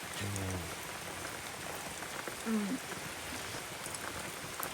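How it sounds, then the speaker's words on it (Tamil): Rain falls outdoors during Pongal cooking, a steady soft patter of drops across the whole stretch, with a brief voice or tone heard briefly in the middle. "இது என்ன மழையா கிடக்கு மழையா இருக்கு"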